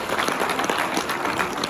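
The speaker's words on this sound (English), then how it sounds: "Give me a round of applause." An audience gives a round of applause, with brief, fairly loud, even clapping throughout.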